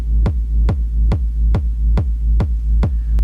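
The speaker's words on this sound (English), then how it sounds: "we have a very subby, punchy kick" Eight deep, punchy synthesized kick drum hits made with the OhmForce BOHM synth at a steady even pace, each with a booming sub-bass tail, loud and alone with no other sounds.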